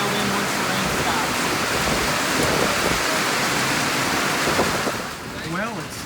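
Heavy rain pours down steadily during a storm at an outdoor military rifle shooting range, a dense continuous wash that stays loud and close throughout, easing only slightly near the end.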